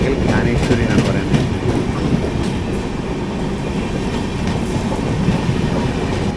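Mandovi Express (train 10104, Madgaon to Mumbai) heard from inside an AC 3-tier coach as it starts rolling: a steady, close rumble of wheels and carriage with faint clickety-clack, continuous throughout.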